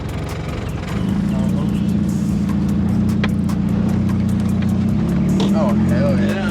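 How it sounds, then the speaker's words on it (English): A Nissan 240SX S13 engine runs steadily with a low, constant hum that grows slightly louder after the first second, continuing throughout. "So the car makes a hella less noise."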